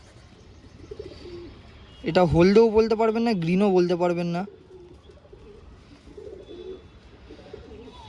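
Giribaz pigeons give a loud burst of throaty, bubbling cooing from close by for about two seconds, with someone talking quietly before and after.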